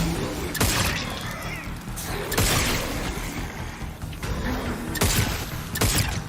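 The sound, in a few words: gunshots in a video game trailer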